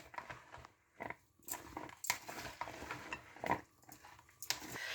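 Onions and cucumber being tossed and mixed for samosa chaat, giving soft irregular clatters and bumps of utensils against a bowl in short bursts, fairly quiet and close.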